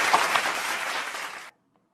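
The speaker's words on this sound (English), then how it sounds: "Big round of applause." Applause fills a school's end-of-year assembly, a dense, steady wash of clapping that holds for about a second and a half and then cuts off abruptly into near silence.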